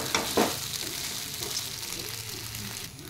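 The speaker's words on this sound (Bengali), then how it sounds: "এবার সাবুর সাথে আলুটা আমি ভালো করে মিশিয়ে নেব।" Sago and potato are mixed together in a pan over lowered gas, a soft continuous sizzle with light stirring scrapes and a couple of brief knocks, no speech.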